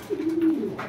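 A pigeon gives a single drawn-out coo, close and clear, with no voices.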